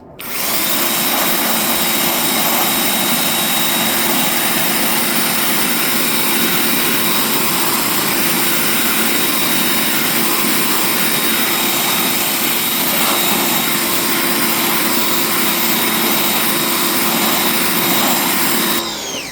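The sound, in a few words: Craftsman pressure washer cleaning a wind turbine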